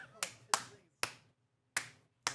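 Five sharp, separate hand claps ring out at uneven intervals, each crisp and fairly quiet with a brief decay, and short silences fall between them.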